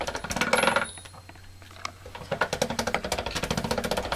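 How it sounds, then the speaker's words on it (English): Polymer clay fed through a hand-cranked pasta machine at its thickest setting: a rapid, regular clicking and rattling of the rollers, close and fairly quiet, with a brief pause midway before the cranking resumes. "first we're going to put it through the pasta machine at the thickest setting"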